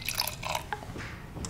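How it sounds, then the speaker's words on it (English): A short, quiet pour of dark beer into a glass, a brief liquid trickle with a few drips, alone and close. "Giving myself a little extra pour of that one."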